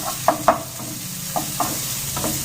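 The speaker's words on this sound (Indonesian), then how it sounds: "lalu kita masukkan baksonya dulu. Biar dia ditumis bersama dengan bakso dulu." Meatballs stir-fried with green beans in a pan, a continuous sizzle broken by several sharp scraping stirs of a spatula at irregular intervals, close up, no talking.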